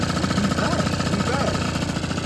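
A Honda Zuma scooter with a 77cc big bore stroker engine idles steadily with a loud, even, bubbly putter, close to the microphone and running a little rich.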